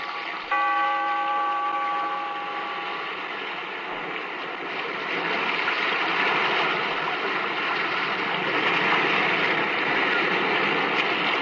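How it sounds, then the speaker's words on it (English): After a single bell tone fades, the rushing roar of sea waves swells and churns steadily, echoing inside a sea cave. "We are met in this cave by the restless sea"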